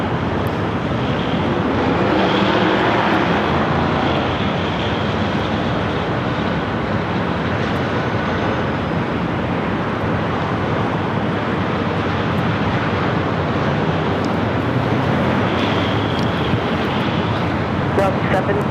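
Delta Boeing 767 arriving at LAX from JFK: a continuous broadband jet roar carries at moderate level throughout and swells slightly near the start.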